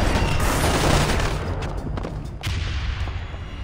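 Shotgun gunfire in the video game Splinter Cell Conviction, a dense, loud, continuous barrage of overlapping blasts and booms with no clear gaps.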